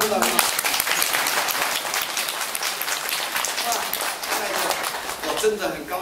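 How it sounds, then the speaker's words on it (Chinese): Audience applause at a cultural dialogue event, a steady dense patter of many hands clapping for several seconds, with a voice speaking over it. "鼓掌鼓掌鼓掌"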